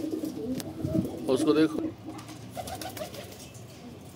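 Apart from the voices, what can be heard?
pigeons cooing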